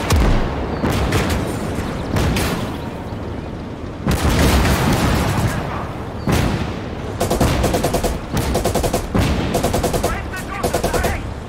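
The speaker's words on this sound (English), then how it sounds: "I can fire my machine guns, but I can't turn it" A tank's machine guns fire in the WW2 game Gates of Hell, loud rapid automatic bursts with heavy booms and artillery-like thuds mixed in, repeating in several long rattling strings.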